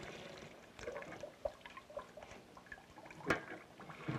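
Water pours into a container during a 1958 water-pressure demonstration in a workshop, with a soft uneven trickle, small splashes and drips, and a sharp knock near the end.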